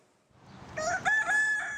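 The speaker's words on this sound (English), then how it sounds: "The roosters are too loud." A single rooster crows once in the French countryside, close and clear, its strained call rising and holding briefly before trailing off.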